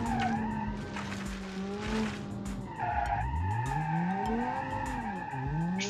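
A 300 HP lawnmower on sticky tires skids and squeals around a roundabout in BeamNG.Drive, with long wavering tire screeches over a steady engine roar that never lets up.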